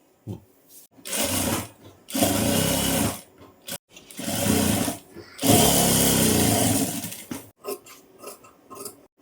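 A sewing machine stitches around a blouse neckline in bursts of rapid mechanical whirring, loud and close, broken by short pauses between runs.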